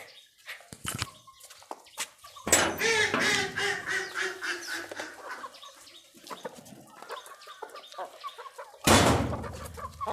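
Broody hens cluck and chatter nearby while being fed grain, bursts of clucking and squawks over a quiet background, with loud rustling bumps at the start and near the end.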